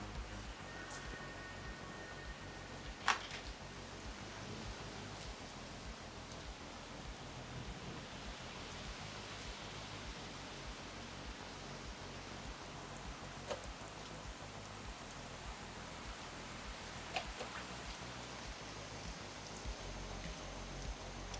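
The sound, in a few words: rain falling outside windows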